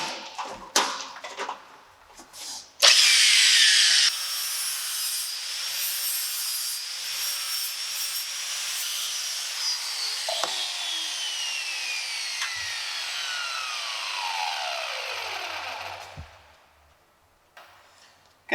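An angle grinder trims boat exhaust pipe pieces, beginning with a few taps, then a harsh, loud, close grinding whine that holds steady for over ten seconds before spinning down and falling silent.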